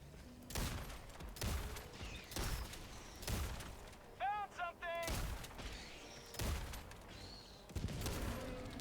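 Heavy gunfire and rocket launcher blasts in the video game Helldivers 2, with about eight loud, sharp booming shots at irregular intervals and a short electronic warbling sound between them.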